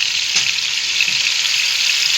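Garlic dropped into hot oil while cooking chaltar (elephant apple) pickle, giving a steady, close, even sizzle that holds throughout with no talk over it.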